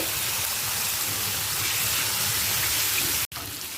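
Chopped garlic and onion sizzle loudly in hot oil alongside a fish head (katla), a steady dense crackling hiss that runs unbroken before a brief cut near the end.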